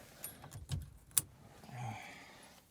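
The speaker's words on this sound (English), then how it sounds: "And the old Ford aluminum keys." Old lightweight aluminum Ford car keys from a scrapped 1977 Pinto jangling, a few sharp metallic clinks and one bright jingle, close and quiet, with a faint hiss afterward.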